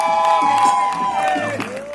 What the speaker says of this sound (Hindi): तो यहां पे जोरदार तालियां सुनील ग्रोवर के लिए, ladies and gentlemen